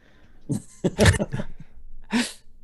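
A voice imitates a sneeze: a few sharp breathy gasps building up, then a burst, followed by another short explosive exhale.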